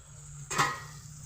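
Tomatoes and sun-dried mutton pieces frying in a pan over low heat, a quiet steady sizzle with one brief louder burst of stirring or spattering midway.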